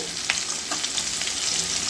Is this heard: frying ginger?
yes